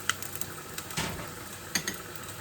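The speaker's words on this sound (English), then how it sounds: "So I'm going in with these onions" Chopped onions sizzle in hot oil in a pan while rice cooks nearby, giving a steady, fairly quiet hiss broken by a few sharp clinks and scrapes of utensils.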